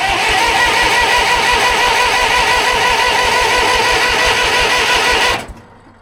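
A 1970s bulldozer engine on half choke is cranked over by the starter in a loud, fast, steady chugging rhythm that runs for several seconds without catching, then stops abruptly.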